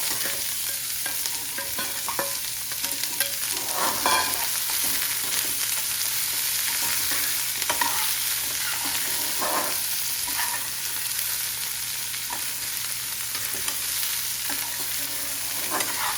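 Fennel seeds roast in a pan for saunfia bhindi, a continuous soft sizzle with repeated scraping stirs throughout, close and steady, with no talk.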